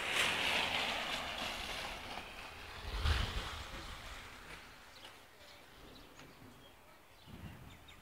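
Gusty wind blows outdoors after a hailstorm in Melbourne, a steady broad rushing with buffeting against the microphone that swells briefly midway, while people talk faintly in the background.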